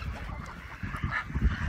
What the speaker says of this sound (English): The chickens follow me, the ducks run away.